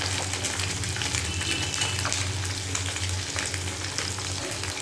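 Small fish frying in a generous amount of hot oil, a steady dense sizzle with crackling spatter that stays loud and even throughout, with no voices.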